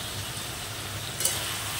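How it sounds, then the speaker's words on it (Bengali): Shrimp and elephant foot yam stalk curry sizzles steadily in a pan on low gas while being stirred, a soft continuous frying hiss with a brief scrape near the end. "তরকারিটা একটু নেড়ে ছেড়ে দিই।"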